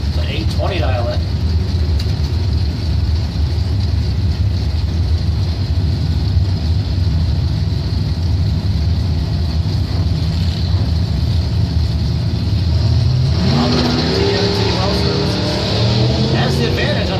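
A 1971 Camaro and a 1985 S10 run on a drag strip with a continuous low engine roar, and the revs climb audibly near the end under background chatter.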